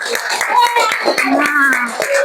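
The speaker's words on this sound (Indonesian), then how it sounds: "Tepuk tangan dong buat anak-anak ibu kalian." Schoolchildren clapping in an elementary classroom, scattered uneven hand claps mixed with lively children's voices and chatter close by.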